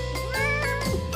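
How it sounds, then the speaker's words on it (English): A cat lets out a single drawn-out meow with a rising then falling tone, close and clear, lasting about a second with no talking. "It must be a cat."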